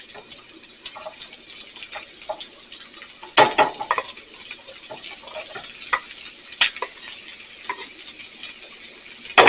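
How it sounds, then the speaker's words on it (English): Steady crackling sizzle of onions frying in butter, with occasional sharper pops and a louder burst partway through, heard close up. "I love the sizzle and the smell"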